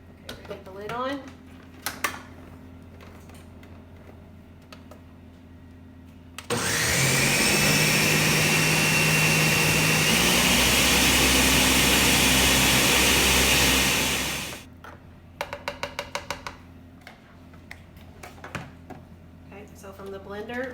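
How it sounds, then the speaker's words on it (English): A Ninja kitchen blender whirs loudly for about eight seconds, pureeing fresh garden tomatoes into sauce, a steady roaring motor with rising pitch, framed by talk and light kitchen clatter before and after. "Ours is a Ninja, but I would think any kind of blender would work."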